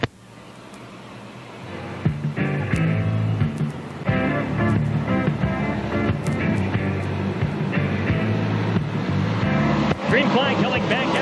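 Modified race cars at a track during a 1999 feature event, engines roaring steadily as the field rolls back up to speed, a dense continuous mechanical drone with a loud announcer talking over it throughout.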